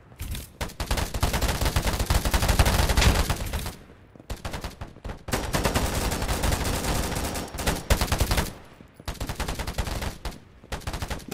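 Rapid bursts of automatic gunfire from the online shooter Polygon, loud and close, coming in dense volleys with a few brief pauses between them.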